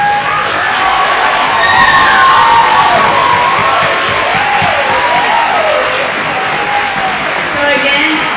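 At a UCA middle school promotion ceremony, the crowd claps and cheers for honored students in a steady, loud wash of applause with scattered shouts, voices mixed in.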